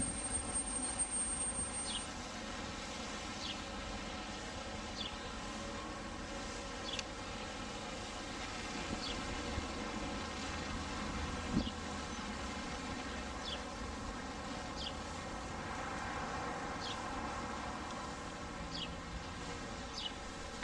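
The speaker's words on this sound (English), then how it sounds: "The aircraft is going to get a GPS and ground fix and then start its descent." UPS delivery drone descending to land in The Villages, Florida, heard as a faint, steady rotor buzz and hum held at a distance throughout, with no voices.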